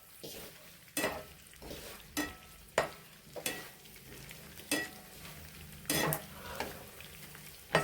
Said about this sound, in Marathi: आता यामध्ये आपल्याला जिंकं ना थोडं थोडं घालून तळून घ्यायचं आहे.